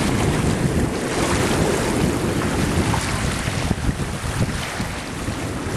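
Strong wind on a sunny day at Farrens Park in Ingleside buffeting the microphone with loud gusty rumble, mixed with water slapping and choppy waves close by, no voices.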